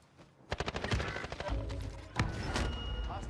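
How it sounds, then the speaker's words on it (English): Rapid gunfire in Call of Duty Warzone Plunder: a quick string of sharp automatic shots rattles close by, followed by heavier bursts and a loud crack amid ongoing battle noise. "I'm taking fire!"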